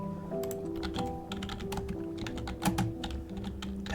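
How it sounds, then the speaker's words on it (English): Someone types one-handed on a computer keyboard: steady, uneven clicking of keys at close range over a low background hum, with no voices. "Typing with one hand is awesome."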